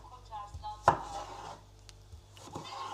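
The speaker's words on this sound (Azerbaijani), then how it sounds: "xiyarları doğrayıram" Cucumbers being chopped with a knife on a board for kısır, a few scattered close taps with one sharp loud cut, quiet kitchen stillness between strokes.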